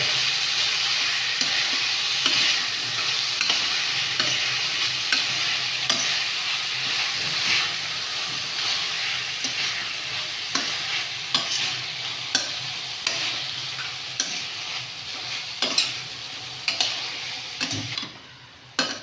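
Vegetables with curd for veg biryani are stirred in a pot, giving a soft steady sizzle with repeated spoon scrapes and taps against the metal that grow sharper toward the end.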